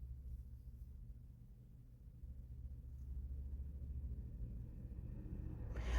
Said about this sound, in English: I apologize if you hear traffic in the background.